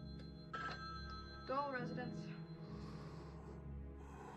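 A telephone rings in a Halloween horror video game, with a short electronic ring tone rising over a steady low ambient drone, mixed with a sharp breath or gasp.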